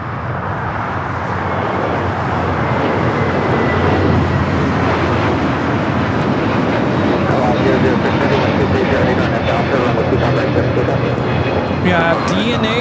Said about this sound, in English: Our next arrival is Air Tahiti Nui Flight 7 coming in from Paris on the 787-9 Dreamliner, now touching down on 25 left